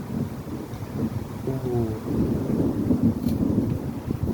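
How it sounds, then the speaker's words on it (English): Strong wind gusting under a darkening sky before a thunderstorm, a loud rumbling buffet on the microphone with a brief exclaimed voice over it. "the wind's blowing"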